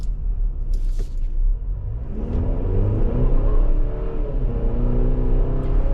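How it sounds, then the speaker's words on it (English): A 2024 Chevrolet Traverse LS AWD engine rumbles low, then revs up and accelerates with rising, strained tones; close and loud, no voices. "Now we got a new engine. We're going to feather in the gas, so here we go."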